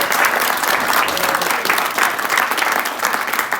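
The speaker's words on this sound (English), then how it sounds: "Please give yourselves a round of applause for being here" Sustained, dense applause from the audience at a Nashville SC Unified Team signing day held with Special Olympics Tennessee. It holds steady and loud throughout without a break.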